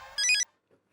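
A phone ringtone sounds in a sitcom scene, a short bright melodic burst of a few electronic tones that cuts off abruptly into near silence.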